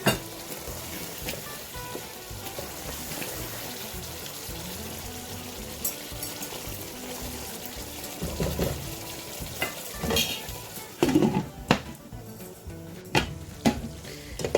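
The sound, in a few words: chicken makhni handi sizzling with butter on medium flame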